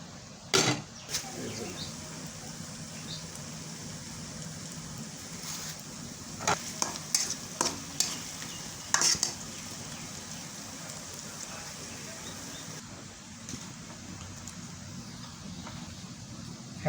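Onions are stirred and fried until brown, giving a soft, constant sizzle. Scattered clatters and scrapes from the stirring stand out now and then over the quiet background.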